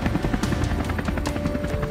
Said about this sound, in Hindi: इस तरह रिमोट हेलीकॉप्टर को स्टार्ट करते ही वह पुलिस स्टेशन पहुंचता है